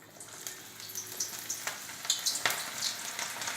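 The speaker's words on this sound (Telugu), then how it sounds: "ఆయిల్ కాగింది కదా, మనం ఇంకా వేసేసుకుందాం" Butter pakora batter sizzling in hot oil, a steady crackling fry with scattered sharp pops and spits rising over it, close and with no voices.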